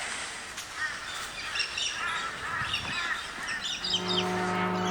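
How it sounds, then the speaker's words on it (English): Birds call all over a small town in Queensland, with a crow's harsh caws rising over a chorus of chirps and tweets against a steady outdoor background. "Swear the birds own the town here."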